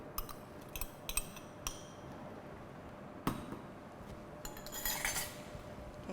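Metal utensil stirring a collagen dessert with goji berries in a pot, with scattered light clinks and scrapes against the pot rim at an even, unhurried pace.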